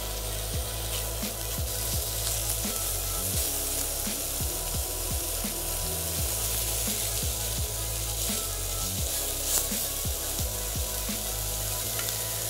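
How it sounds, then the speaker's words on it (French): Kebab meat sears over high heat in a frying pan that was used to cook onions and peppers, giving a steady, dense sizzle with occasional light scrapes throughout. "On récupère à présent notre viande et on va la faire griller à feu vif dans la poêle"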